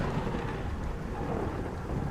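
Steady rain in a Kerbal Space Program game, a dense broadband hiss with soft low rumble, continuous and moderately loud with no talk.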